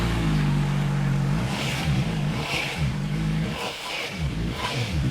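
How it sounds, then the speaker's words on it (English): A VOGE RR 500 S motorcycle engine running up close, steady throbbing idle with a couple of rev blips rising and falling, loud and alone with no talking. "Let's start it and hear the engine."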